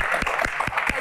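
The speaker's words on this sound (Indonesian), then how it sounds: "Tepuk tangan dong" Brief, scattered clapping from an audience at a Q&A about a solo concert, a few distinct claps close by over a steady crowd murmur.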